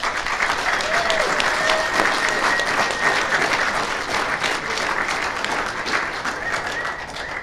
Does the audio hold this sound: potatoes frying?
no